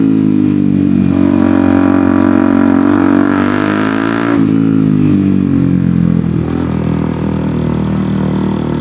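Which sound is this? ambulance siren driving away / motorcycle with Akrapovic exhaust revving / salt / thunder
motorcycle with Akrapovic exhaust revving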